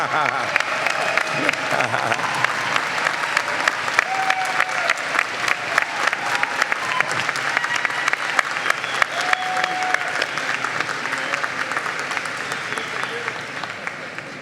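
A large commencement audience at a university graduate ceremony applauds graduates' families, sustained dense clapping for over ten seconds with scattered voices and a few cheers mixed in.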